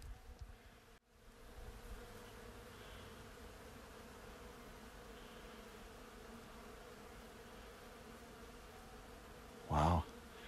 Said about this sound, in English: Boy, the honeybees are busy pollinating. You can hear them. I've never heard them so strong before.